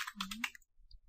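A brief voice, then a few faint keystrokes as a command is typed on a computer keyboard running Kali Linux.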